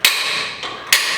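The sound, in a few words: hammering a metal hole punch to mark drill holes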